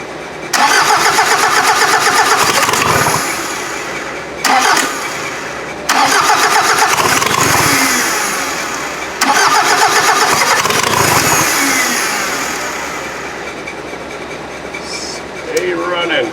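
A VW diesel engine fitted in an offroad Mazda cranks and catches several times in loud bursts, dropping out between attempts before settling into a rough idle that fades; the engine may have a head gasket fault with smoke from the coolant pipe.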